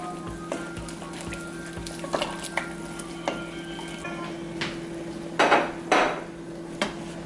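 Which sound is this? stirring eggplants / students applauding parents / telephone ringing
stirring eggplants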